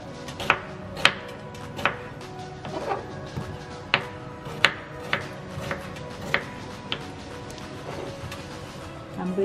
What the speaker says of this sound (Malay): Saya nak potong tomato